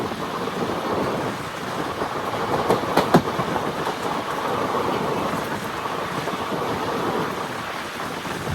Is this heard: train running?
yes